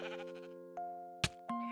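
A male goat in Minecraft with the Mo'Creatures mod bleats in a short burst of quavering calls, followed by a few isolated game tones and a sharp click, all fairly close and clear.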